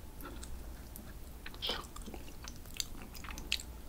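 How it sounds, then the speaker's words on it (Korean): Close chewing and biting of grilled pork eaten together with bibim naengmyeon cold spicy noodles, soft wet mastication with a few crisp bites, near and fairly quiet, no talking. "비냉이랑 같이 먹어보겠습니다."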